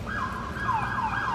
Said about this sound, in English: All the ambulance are coming for me.